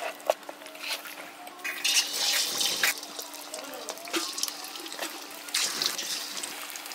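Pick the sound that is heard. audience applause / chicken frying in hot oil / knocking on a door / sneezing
chicken frying in hot oil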